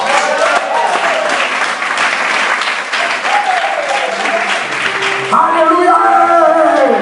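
A church congregation applauds steadily throughout, with dense continuous clapping and a brief swell of cheering voices near the end.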